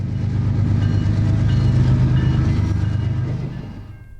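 A Norfolk Southern train rolls along the former Wabash main line in central Illinois, a close, heavy rumble with wheel clatter that builds steadily and then begins to fade.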